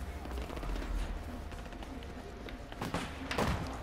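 Gunfire rattles in the Battlefield 4 video game on PS4, with rapid automatic bursts and scattered thuds of moderate loudness that are louder near the end.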